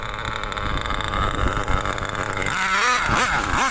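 Schumacher Menace RC car with an LRP 32x nitro engine screams close by, a steady high buzz rising into repeated revving sweeps near the end as the throttle is worked.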